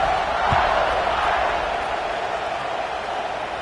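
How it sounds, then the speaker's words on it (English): Stadium crowd buzzing in a College Football 26 video game, a steady, loud wash of massed voices and cheering that holds evenly across the moment before a kickoff. "this crowd is buzzing after that last score"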